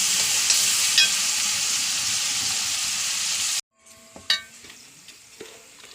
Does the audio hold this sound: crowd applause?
no